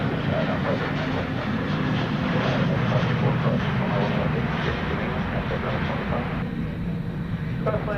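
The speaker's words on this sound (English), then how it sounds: "This is American 1456, an Airbus A321neo arriving from Salt Lake City, Utah" An American Airlines Airbus A321neo arriving from Salt Lake City makes a steady jet roar that stays fairly constant, easing slightly toward the end, with people talking over it.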